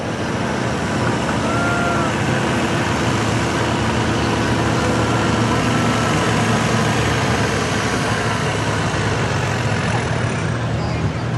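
A stock Oliver tractor engine runs at a tractor pull in Langford, New York, a loud, steady, unbroken drone that holds for the whole stretch without pauses.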